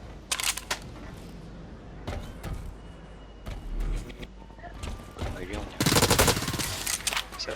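A tactical machine gun fires in the online shooter Blacklight Retribution, with short bursts of rapid shots early on and a denser, louder burst near the end, while a player talks over the game sounds.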